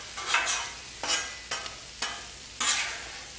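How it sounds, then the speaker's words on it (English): Spam slices sizzling and turning crispy on a Blackstone griddle, with a steady frying hiss broken by several sharp scraping stirs of a spatula at a close distance. "My Spam is almost ready, getting a little crispy on the outside."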